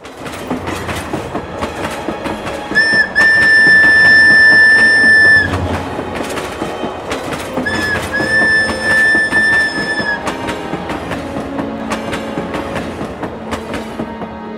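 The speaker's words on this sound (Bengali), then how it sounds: "ট্রেনটা অনেক দেরি করেছে। হাই টাওয়ার স্টেশনের প্ল্যাটফর্মে নাতালি একেবারে একা।" Train sound effect: steady clickety-clack of wheels on rails runs throughout, broken by two long, loud whistle blasts, the first about three seconds and the second slightly shorter.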